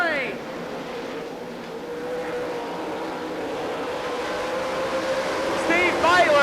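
Sprint cars race past at the Knoxville Nationals, engines droning steadily and swelling as a car nears close by toward the end, with an announcer talking over the noise.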